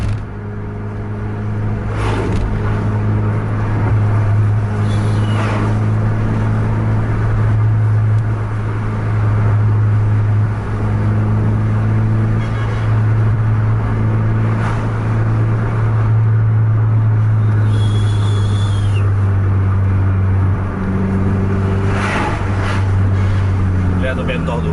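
An intercity bus engine held at full throttle during a close road duel between PMTOH, Volvo and Scania coaches, giving a loud, steady, low droning roar for the whole stretch, with voices talking over it.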